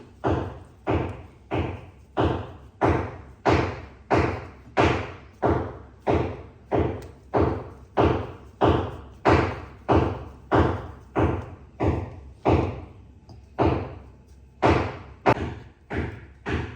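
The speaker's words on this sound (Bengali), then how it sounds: "দেখো আমরা রুটি বা পরোটা বানাতে যেরকম ডো তৈরি করি, ওইভাবে আমি ডো তৈরি করে নিচ্ছি।" Dough for aloo paratha being kneaded by hand on a surface, heavy rhythmic thumps repeating roughly every half second for the whole stretch, close and loud.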